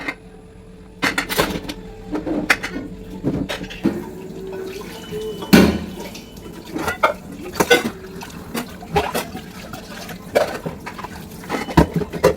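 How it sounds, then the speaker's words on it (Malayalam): Flat plates are washed at a sink, with running water, splashing, and clattering dish knocks in irregular bursts, close by and fairly quiet between clatters. "ഈ ബാക്കിയുള്ള കുറച്ച് പരന്ന പാത്രങ്ങളൊക്കെ ഒന്ന് കഴുകി വൃത്തിയാക്കട്ടെ"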